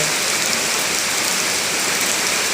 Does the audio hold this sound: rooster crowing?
no